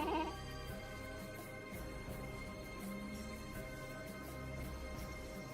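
Faint goat bleats sound now and then over a low, steady background hum and music-like drone, in the video game Gabriel Knight: The Sins of the Fathers.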